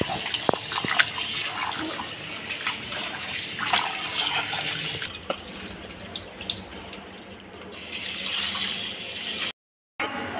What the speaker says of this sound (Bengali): এখন হচ্ছে আমি চিকেনটাকে পরিষ্কার করে ধোবো।